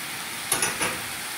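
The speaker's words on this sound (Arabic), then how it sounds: "نحاول نحلها هكا بالطريقه هذه ونخليها تتقلى مع البصله" Chicken frying with onion in a pan, a steady soft sizzle with a few brief stirring scrapes in the middle, close and fairly quiet.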